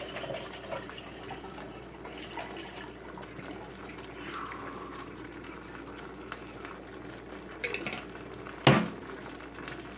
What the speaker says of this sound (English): Put a little water in there and mix it up.